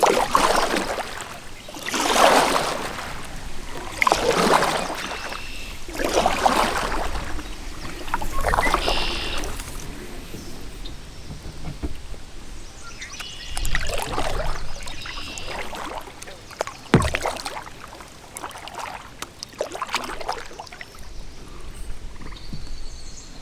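Kayak paddle strokes dipping into water at Long Sault at sunset, with carp splashing around; rhythmic swishes recur every couple of seconds early on, then give way to quieter trickling and a few sharper splashes.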